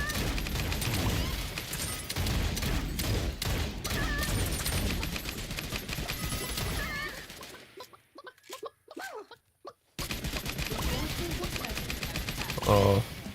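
Rapid assault rifle fire in the Realm Royale video game, dense loud bursts of shots for several seconds, a short quieter gap with a few scattered shots, then more firing, with a player's voice talking over it.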